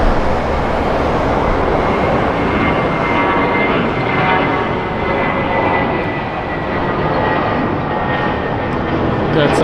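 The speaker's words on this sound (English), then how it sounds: "Got some nice engine sounds there from JetBlue." JetBlue airliner jet engines roar at LAX airport, a loud, broad, sustained rumble with a whining tone riding on top that swells and eases slightly as the aircraft moves.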